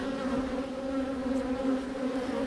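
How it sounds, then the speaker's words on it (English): Honey bees buzz steadily inside a nuc hive during an inspection, a close, continuous drone holding even volume throughout without pause. "these bees look healthy"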